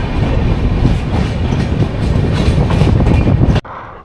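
A train hauled by a WAG electric locomotive rolls through Chandrapura Junction with a loud, continuous rumble and rattle of wagons close by, then cuts off sharply near the end as if a door shuts.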